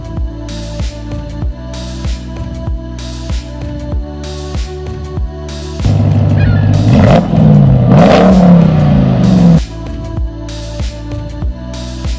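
A 2021 Ram 1500 TRX pickup's 702-horsepower engine revs up loudly in a sustained roar for several seconds, with rhythmic clattering beats before and after.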